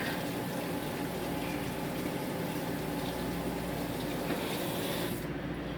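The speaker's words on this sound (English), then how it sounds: "Shiny lemon, which I will now wash off." Steady, fairly loud rush of running tap water as a lemon is washed under it, continuous and close with no voices, the flow cutting off abruptly near the end.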